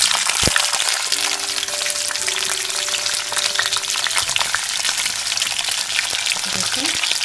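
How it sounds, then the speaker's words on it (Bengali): Flat beans (sim) fry in hot oil, making a loud, dense, continuous crackling sizzle close by, with a few faint tones and clinks underneath and no talking. "শিমগুলোকে ভালো করে উল্টে পাল্টে একটু ভেজে নিতে হবে"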